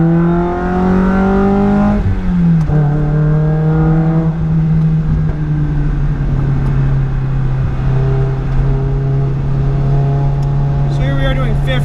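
A $1000 car drives through a corner and accelerates, its engine note steady and rising in pitch, loud and close throughout, with a voice talking over it.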